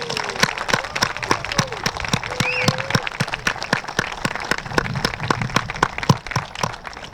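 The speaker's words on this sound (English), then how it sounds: "can we have a round of applause for the Mackey family?" A crowd applauds the Mackey family at a schoolyard and field ribbon-cutting ceremony, with dense steady clapping and scattered louder claps throughout, a few voices and cheers faintly mixed in.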